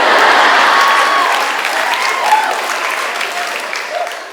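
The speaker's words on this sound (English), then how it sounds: "Now you clapped" Audience applause at a stand-up comedy show: a dense, sustained burst of many hands clapping that starts full and loud and slowly thins over about four seconds.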